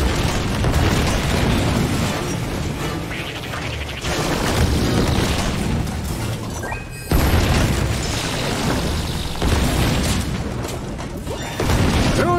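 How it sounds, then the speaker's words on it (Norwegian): Artillery explosions in the video game Epic Mickey 2, heavy booming blasts rolling continuously and loudly through the whole stretch, with sharp new bursts hitting around the middle and near the end. "Artilleri på vei!"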